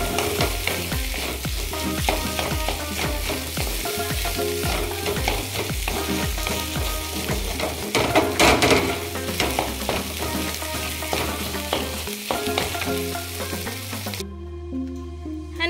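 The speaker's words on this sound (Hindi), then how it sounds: "बस दाल में तड़का लगाना बाकी है।" Tadka tempering for dal, a loud, steady, close sizzle of hot frying with repeated stirring clatter against the pan that continues throughout, then drops abruptly near the end, with no talking.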